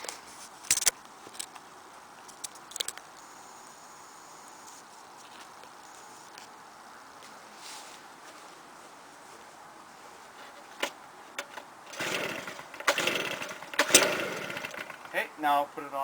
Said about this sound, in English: This one has manual choke, no primer, so it's on choke, and just crank it until it fires.